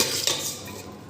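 Cooked pigeon peas being pounded in a mortar at a village farm: close clinking and scraping with one sharper knock early on, no talking.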